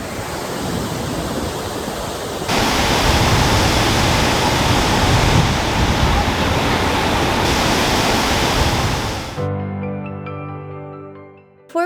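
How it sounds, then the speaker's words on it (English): Axarafoss waterfall on the Axara river in Thingvellir National Park roars as a loud, continuous rush of falling water, close and unbroken, before the sound cuts off abruptly near the end. "Axarafoss flows from the river Axara and is the most famous waterfall in Thingvellir National Park"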